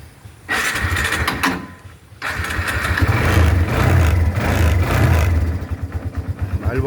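A Barako 3 motorcycle engine cranks and catches, then settles into a loud, close, rhythmic idle with a few surging revs and short pauses.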